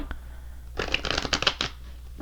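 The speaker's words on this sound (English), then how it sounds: "Spirit says to keep shuffling." A brief burst of tarot cards being shuffled, a quick rippling riffle of soft papery clicks lasting under a second, close and fairly quiet.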